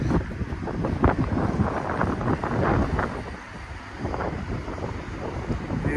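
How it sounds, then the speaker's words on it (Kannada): Strong headwind on a hilltop overlooking the Bangalore–Mysore highway buffets the microphone in a constant roaring rush, gusting louder and softer throughout, with no voices. "ಆದರೂ ಸ್ವಲ್ಪ ಗಾಳಿ ಜಾಸ್ತಿ ಬರ್ತೈತೆ"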